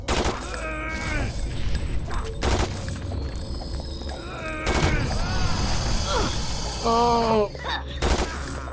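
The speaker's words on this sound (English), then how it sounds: "I want to see Lily use this machine gun." Machine gun fire in Vampire The Masquerade Redemption, in a New York City sewer level: several loud, harsh bursts spread out, with game sound effects and a voice crying out between them.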